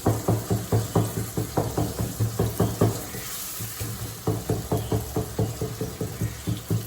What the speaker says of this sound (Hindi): तो चले मसाला भून, आलू शामिल करके 5 मिनट हो गए जो भूनते हुए।